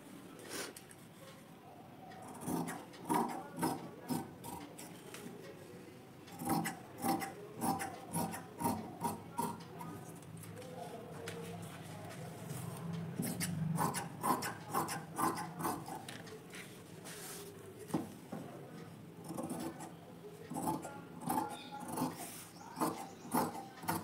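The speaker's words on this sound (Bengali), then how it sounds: "তো চলুন কাটিংটা করে নিই।" Scissors snip through blouse fabric while a size 40 double katori blouse is being cut, producing a steady run of close, soft crunching cuts and rustling cloth, clear and without any talk.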